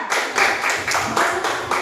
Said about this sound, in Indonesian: Tepuk tangan buat kelompok 3.